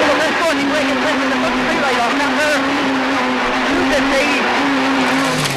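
A 1600cc rally car races flat out along a rally stage, its high engine note droning steadily with rapid pitch shifts between gears, under continuous commentary.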